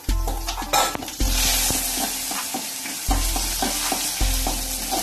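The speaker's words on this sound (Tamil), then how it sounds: "வத்தல் பொரிஞ்சிருச்சு" Dried red chillies and curry leaves crackle and sizzle in hot oil with mustard seeds for a cucumber yogurt pachadi tempering, a steady close fry with occasional clinks of a spoon stirring in the pan, no voices.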